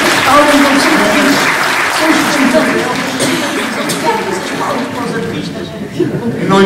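Audience applause at a trophy award ceremony, a dense, steady wash of clapping that stays loud for the whole stretch before easing slightly near the end.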